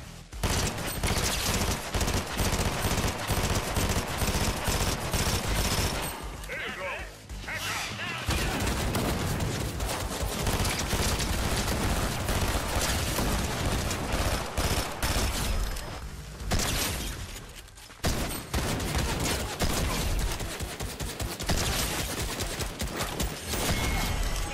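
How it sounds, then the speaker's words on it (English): Dense, sustained bursts of gunfire rattle almost nonstop in Fortnite as a crowd of bots shoots at the player, loud and close, broken only by brief pauses, with a voice speaking now and then over the barrage. "Just the sheer amount of bots shooting at me, it hurts."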